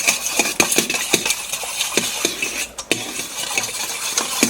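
Barbecue sauce is stirred into seasoning juice in a pan, with a utensil clinking and scraping against the metal in an uneven rhythm of sharp taps, close up and without speech.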